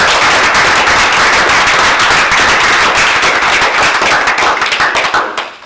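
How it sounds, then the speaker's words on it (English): Meeting attendees give a round of applause, a loud, dense burst of many hands clapping steadily for several seconds before tapering off at the end. "I'm going to give it a round of applause."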